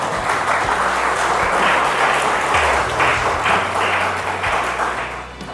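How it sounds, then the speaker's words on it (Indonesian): Loud, sustained applause from a large audience at a motivational talk, dense clapping that holds steady and fades slightly at the end, with a low hum underneath. "Ada tepuk tangannya nih"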